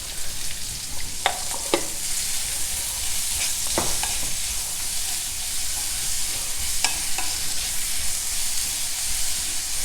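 Sliced onions with salt fry in a pan for a bittergourd side dish, giving a steady close sizzle and hiss with occasional scraping stirs of a spatula and no voices over it.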